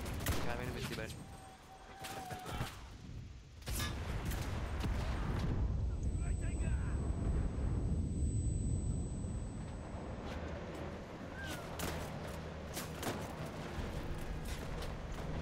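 Gunfire in the World War II shooter Enlisted, a dense fusillade of loud rifle and machine-gun bursts with heavy booming blasts, layered over a continuous battle din.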